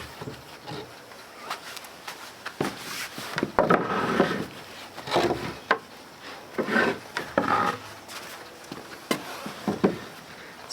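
Wooden gate pieces with mortises and tenons being handled and pushed together for a dry fit, giving a series of close, irregular knocks, taps and scraping rubs of wood on wood with no talk.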